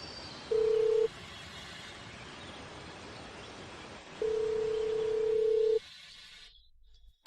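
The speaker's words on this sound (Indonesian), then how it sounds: "HP ini terus bunyi." A phone rings electronically in two bursts, a short tone then a longer one, over a steady background hiss, ending in near silence.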